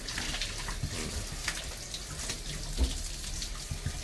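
Water runs steadily from a hose, a constant splashing rush with a few louder spatters, and no one speaks.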